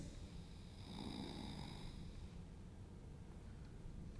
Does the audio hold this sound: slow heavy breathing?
yes